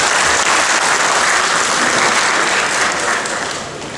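Steady, dense audience applause fills the room at a French-language conference honoring a scientific committee chair, loud and continuous, then tapering slightly toward the end.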